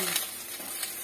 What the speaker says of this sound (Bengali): এবার কলা পাতা ভাজা উল্টানো হয়ে গেছে।